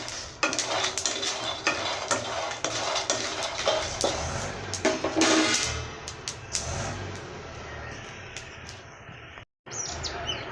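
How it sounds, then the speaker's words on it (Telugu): Dried red chillies fry in a pan with steady sizzling, while a metal spoon scrapes and clinks against it through the first half. The stirring fades to a quieter hiss toward the end, with a brief gap. "ఎండు మిరపకాయలు వేసుకోవాలండి కొద్దిసేపు వేగనివ్వాలి"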